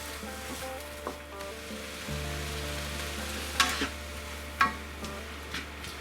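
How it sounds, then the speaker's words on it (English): Onion and red pepper stirred as they fry in a pan for a slow cooker beef tikka masala, a steady close sizzle with a low hum and a few sharp scrapes of the spoon, no talking. "we're going to stir these now for around 4 minutes to soften them up"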